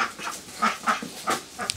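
Indian runner ducks in a garden give a series of short, nasal quacks, several calls spaced irregularly and fairly close.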